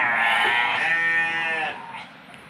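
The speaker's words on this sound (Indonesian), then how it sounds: "domba ini tuh disebutnya domba" A sheep bleats loudly and close by in a livestock pen on a farm, one long, wavering, nasal cry that tails off into quieter pen noise.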